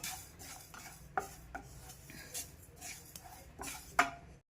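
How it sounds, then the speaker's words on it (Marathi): A spoon scrapes and taps in a hot pan while fenugreek seeds roast, giving soft irregular stirring scrapes and a few sharp metallic clinks, close by and fairly quiet. "हे 2 मिनिट गरम झाल्यानंतर यामध्ये आपल्याला मेथी टाकून घ्यायची"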